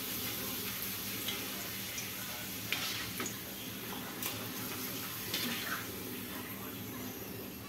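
Papad fries in hot oil in a village home kitchen, a continuous soft crackle and sizzle with scattered small pops and ticks, close and steady throughout.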